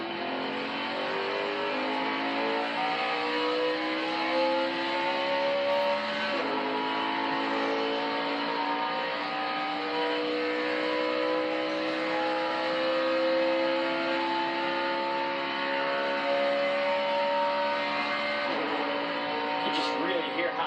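Ford race car at full throttle on a Talladega qualifying run, a loud steady engine drone rising in pitch through the gears with two clear shifts, continuous and close throughout, with a voice talking faintly over it.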